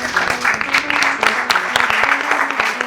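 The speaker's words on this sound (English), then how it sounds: "A little cheer" Applause and cheering from a small group greet the winning team at a quiz show, a short lively burst of clapping with a few voices mixed in.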